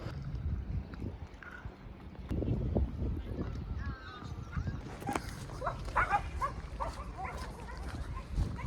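A dog barks a few times during an outdoor walk in a coastal town in Cornwall, mid-distance and fairly clear over wind and ambient noise, with people talking nearby.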